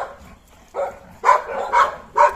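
Several large, wet, muddy dogs outdoors after heavy rain bark in a few loud, close bursts, spaced irregularly over a low background.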